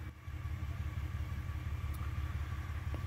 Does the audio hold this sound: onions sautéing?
no